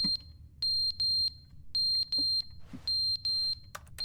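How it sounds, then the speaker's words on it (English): An office fire alarm in The Stanley Parable sounds in repeated high electronic beeps, grouped in short bursts with brief gaps, steady and piercing above a faint low room hum, with no voices. "Oh, the fire alarm is going off."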